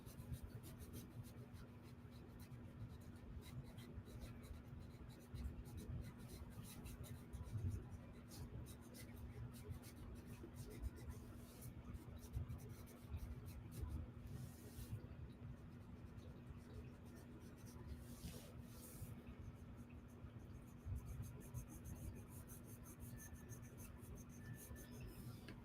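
Soft colored pencil shading on paper makes a continuous faint scratchy rubbing, steady strokes over a low hum throughout, with no voice over it.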